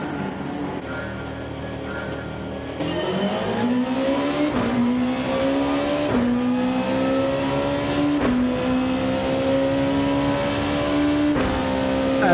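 A 2016 Honda NSX Concept race car in a Gran Turismo 7 Group 2 daily race at the Nürburgring, its engine revving up through gears with rising whines and shifts, loud and continuous.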